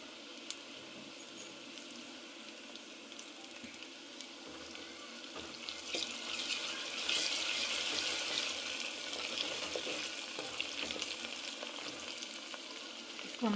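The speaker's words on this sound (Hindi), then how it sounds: "अब इसमें मैं अदरक और लहसुन का पेस्ट जो है वो शामिल कर दूँगी।" Ginger garlic paste frying with chicken liver in a pan, a soft continuous sizzle and hiss that grows slightly louder midway, with faint stirring clicks and no voices.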